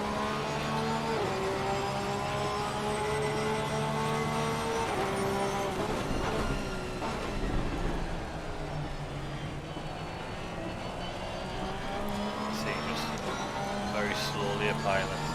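Racing car engine revs hard as throttle is applied, a sustained loud whine rising and falling in pitch through gear changes, with commentators talking over it.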